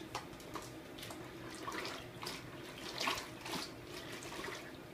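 Hot water, stated as about 1.5 gallons near boiling, runs and splashes into a container for floor cleaning, a steady close rushing with a few louder surges, no talking.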